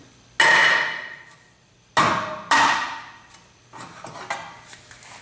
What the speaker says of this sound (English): Little bit of persuasion from a dead blow hammer.